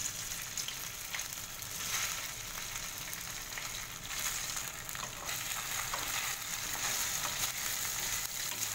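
Idlis fry in hot oil in a kadai with a steady, dense sizzle that carries on evenly throughout, close and moderately loud, with no voices.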